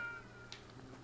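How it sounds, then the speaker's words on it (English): A cat in the video game Triangle Strategy gives a single short, faint meow over a quiet ambient game background. "Here's a cat."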